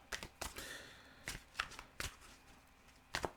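Tarot de Marseille cards are shuffled close by in a quiet room. The shuffle comes as a series of short, crisp riffling bursts separated by brief pauses.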